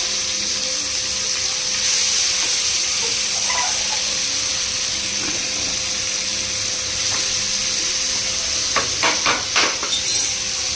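Pulusu, a tamarind stew, boiling in a pot: a steady bubbling hiss with a brief cluster of louder pops and splutters near the end, and no talking.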